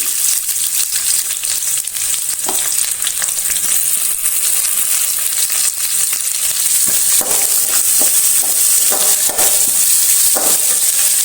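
Sliced onions fry in a pan with ginger for a prawn sukka masala, giving a steady, loud sizzle that runs throughout, with scattered stirring scrapes and clicks on top.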